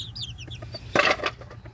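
Backyard pet chickens clucking at close range, a short burst of hen chatter rising briefly louder in the middle of the clip, with no talking.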